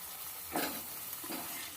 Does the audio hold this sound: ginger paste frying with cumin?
yes